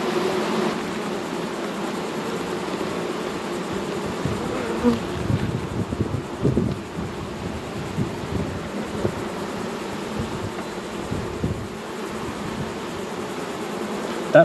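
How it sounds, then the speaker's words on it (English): A dense, continuous drone of many honey bees buzzing up close, with some soft handling thumps underneath. "That's a lot of bees."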